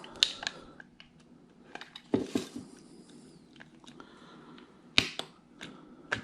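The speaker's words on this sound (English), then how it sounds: "you'll go ahead and plug in the battery here" A battery connector is plugged into a Schlage touchscreen keyless deadbolt lock during installation, giving a few sharp plastic clicks and small mechanical snaps against a quiet background.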